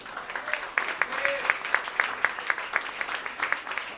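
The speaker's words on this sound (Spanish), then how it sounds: "que ya lo aplaudimos" A modest audience at a book launch claps for the author, a soft, even patter with a few sharper individual claps and murmured talk beneath.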